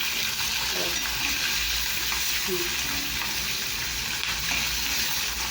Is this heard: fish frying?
yes